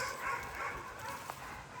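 A dog whimpers and gives short yips and barks while playing and shaking a toy. The sounds are faint and partly masked by steady background noise.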